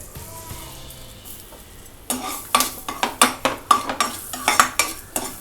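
Ginger, garlic and green chilies sautéed in a pan with the spoon stirring, after a quiet start with a faint sizzle, followed by a run of sharp, rhythmic scraping clatters of metal on the pan.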